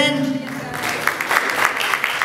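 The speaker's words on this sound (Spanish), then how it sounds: "Fuerte su aplauso como se lo merece." A crowd at an Ecuadorian community recognition event in Los Angeles breaks into steady applause right after a short stretch of speech, the clapping dense and fairly close with a few louder bursts.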